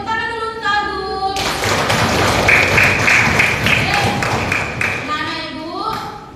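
A classroom of students breaks into a burst of applause for Agung, loud, dense clapping lasting a few seconds, framed by a teacher's voice before and after.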